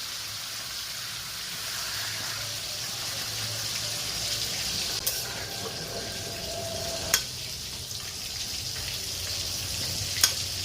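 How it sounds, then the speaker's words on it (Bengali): Lau shak cooking in a frying pan with fish trimmings gives a steady, even hiss and bubble after water is poured in, with a few sharp clinks standing out over the continuous simmer. "আবার জল দিয়ে ঢেকে দেব।"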